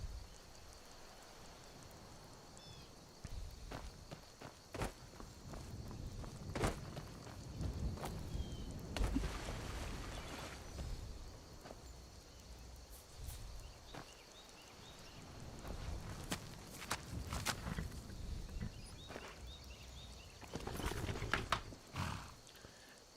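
Hooves of a dwarven horse walking in the video game Skyrim, a quiet run of irregular clip-clop steps with a brief whinny, over soft rain-like ambience.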